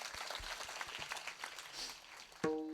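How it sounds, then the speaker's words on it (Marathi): At a Marathi kirtan gathering, the crowd gives a faint, scattered round of applause, heard from a distance. Near the end a sharp, ringing tonal hit cuts in. "हा सर्वांसाठी एकदा जोरदार टाळ्या"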